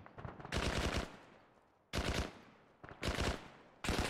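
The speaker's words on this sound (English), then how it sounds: "Rifle fire in the compound, enemy, or are you guys shooting something?" Three-round burst rifle fire in a military shooter video game, sharp loud bursts repeating at roughly one-second intervals, each a tight cluster of shots with a decaying tail.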